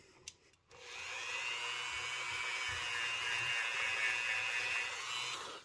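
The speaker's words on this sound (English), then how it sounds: "then very gently with the Dremel, here with the wire brush" A Dremel fitted with a wire brush runs steadily against a rusty Imperial Boy Scout camp knife, a sustained whirring buzz that starts after a brief click and holds to the end.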